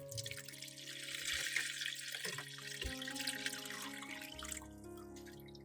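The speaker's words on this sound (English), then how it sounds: "Then pour out the water and replace it with new water." Water being poured out of a container of soaking garlic and refilled with fresh water: running and splashing, then trickling and dripping as the flow eases, close and moderately loud.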